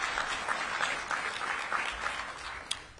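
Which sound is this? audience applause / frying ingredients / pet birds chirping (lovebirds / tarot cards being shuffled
audience applause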